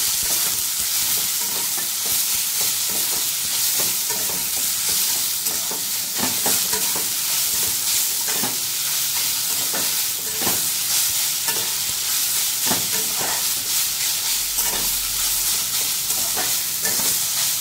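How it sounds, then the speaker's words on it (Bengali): Drumstick leaves, bottle gourd and poppy seed stir-fry in a pan, a steady close sizzle with repeated scraping stirs throughout. "ঠিক এই সময় আমি সজনে শাকগুলো দিয়ে দেবো। ভালোভাবে মিশিয়ে নিতে হবে সব কিছুকে।"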